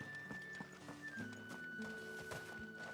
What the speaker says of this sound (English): I borrow a horse.